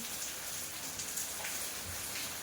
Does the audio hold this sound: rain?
yes